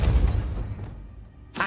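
A Depulso spell is cast in Hogwarts Legacy, a short heavy magical boom and whoosh that decays over about a second before a brief new burst.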